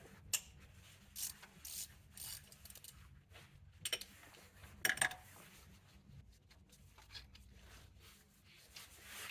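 Ratchet fitted with a triple square bit and extension working on the belt tensioner of a 2006-2015 Audi Q7 with a supercharger, giving sparse, faint metallic clicks and a few sharper ticks over a low hum.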